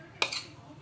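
A spoon scrapes and clinks in a bowl as rice flour is mixed in, one short, close, soft burst of stirring.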